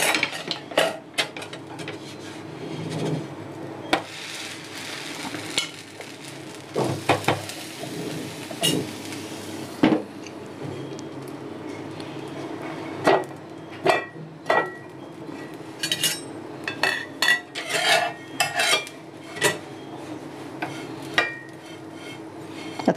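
A pan used as a griddle for making soft amboli gives sharp intermittent clinks and clatters of metal utensils, some in quick bursts, against quiet kitchen background with no talk.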